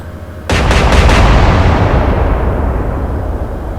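Ship guns firing in an Atlantic Fleet naval battle game, a sudden loud booming salvo with a few rapid cracks, then a long rumbling roar that slowly fades, no voices.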